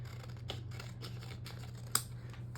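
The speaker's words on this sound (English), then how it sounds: "take my scissors and just trim the" Scissors trimming excess paper from a planner page, a series of faint, close snips over a low steady hum, ending with one sharper, louder cut.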